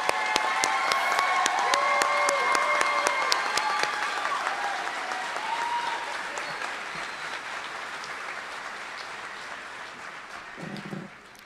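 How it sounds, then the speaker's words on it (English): A large commencement crowd gives a sustained round of applause for the 2022 graduating class at a college ceremony, loud and dense at first and then gradually thinning toward the end. "Let's have one more round of applause for the graduating class of 2022."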